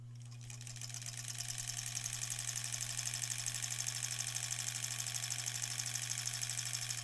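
A sewing machine stitches quilt scraps for granny squares with a fast, even mechanical whir. The hum is steady and close, rises slightly at the start and then holds constant with no talking.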